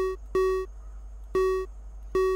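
An electronic alarm in the FNAF Revelations fan-made video game beeps in a steady repeating pattern, sharp tonal pulses roughly a second apart over a constant low hum, with no voices.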